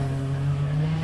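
A Toyota Starlet rally car launches off the start line at a forest rally sprint, with a loud sustained engine drone and a faint higher tyre tone. No one talks.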